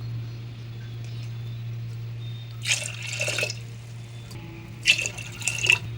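Glasses of water are poured into chana dal for cooking, two short splashing pours a couple of seconds apart, each about a second long, over a steady electrical hum.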